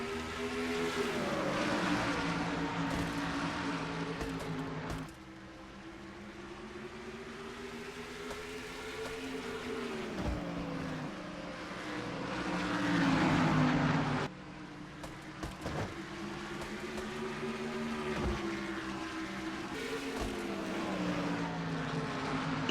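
Stock cars roar away at the green flag of the Tyson Holly Farms 400 at North Wilkesboro Speedway, a loud, sustained engine drone with pitch rising and falling as the field passes, swelling midway then settling.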